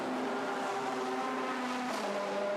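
A race car crosses the line during a GT World Challenge Asia qualifying session at Chang. The engine drones loud and steady the whole time, its pitch shifting slightly as the car passes.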